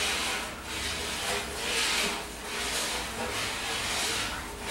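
Rebatched homemade soap stirred in a large pot over a turkey cooker, a close, rhythmic swishing hiss that swells and fades about once a second.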